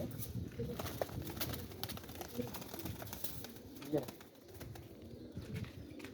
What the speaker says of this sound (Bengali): আমার বাসা থেকে আপনারা দেখছেন এই কবুতরগুলো